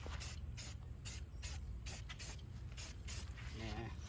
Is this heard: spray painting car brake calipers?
yes